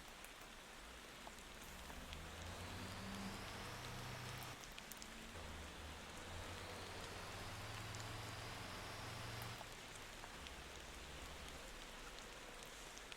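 Steady rain hisses throughout in the driving game Motor Town, a dense, even wash of falling drops with a faint low vehicle rumble underneath and no voices.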